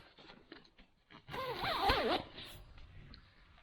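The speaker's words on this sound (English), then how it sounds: "a 2-way zipper, so you can open that for more air" A two-way zipper on the door of a Robens Seeker 2 LW lightweight backpacking tent is drawn open in one close, rasping pull of about a second, with quiet handling rustle before and after.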